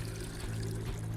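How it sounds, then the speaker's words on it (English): Water pours steadily from a sink into canteens in the survival game Stay Out, a continuous, close, moderately loud splashing stream with no talk over it. "Go ahead and fill my canteens up while I'm at"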